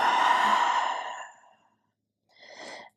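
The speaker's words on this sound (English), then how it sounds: "Let's take one more breath here." A deep, audible exhale during a slow yoga flow, a long breathy sigh lasting over a second that fades out, then a shorter, softer breath after a brief silence.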